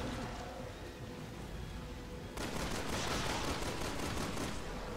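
Dense gunfire rattles through a Resident Evil 6 battle, a steady noisy barrage that grows louder and denser halfway through, with no talk over it.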